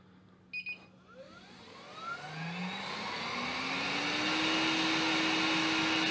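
A Cop Rose robot window cleaner powering up: a couple of short beeps, then the suction motor whines upward in pitch and swells into a loud, steady roaring rush that holds at full power.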